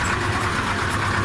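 A Ford 3600 tractor engine idles steadily with a low, throbbing rumble, close by and continuous, in a village.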